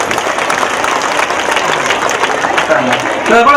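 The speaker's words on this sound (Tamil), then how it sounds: "நல்ல ஒரு கைத்தட்டல் கொடுங்க அவங்களுக்கு." Applause from an audience at a Kalanjiam community meeting in 2024, a dense steady wash of clapping that runs throughout, with a voice speaking over it near the end.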